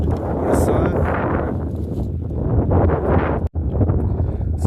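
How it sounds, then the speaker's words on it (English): Strong wind gusts outdoors beside a lake during a fishing outing, roaring loudly into the microphone in continuous buffeting bursts. "So it got really windy out right now"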